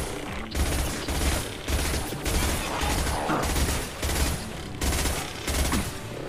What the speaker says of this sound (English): That machine gun is powerful.